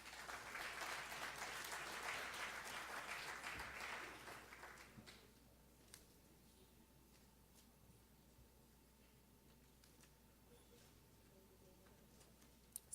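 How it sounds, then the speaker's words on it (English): A church congregation applauds during a Sunday service for about four seconds, then the clapping fades to scattered faint claps and quiet room tone. "So give David a round of applause."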